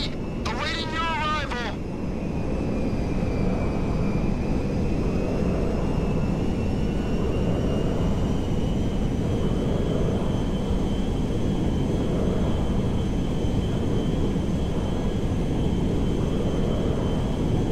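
A military jet in Grand Theft Auto 5 roars with a loud, steady engine drone and a high sustained whine that holds for the whole stretch after a brief opening sound.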